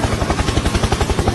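A helicopter sound effect: a loud, close rotor thump beating in a fast, regular rhythm over a steady whine, heard alone.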